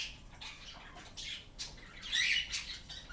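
A pet bird gives a run of sharp, raspy squawks and chirps during crop feeding, close by and moderately loud against a light hiss.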